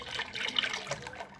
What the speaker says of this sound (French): on va verser la soude et l'eau